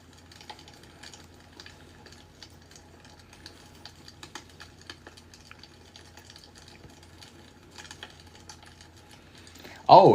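Soft computer keyboard typing patters in the background in irregular bursts of light clicks, faint and close, with a brief louder knock at the very end.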